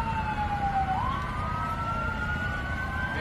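Fire engine sirens at an airport wail steadily at a distance, with a long tone that slides upward, over a constant rumble of engines and wind.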